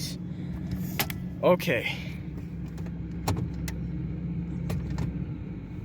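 A newly acquired car's engine idles after being started, a low steady rumble underneath clicks, a brief rattle and interior handling noises, with a person speaking briefly.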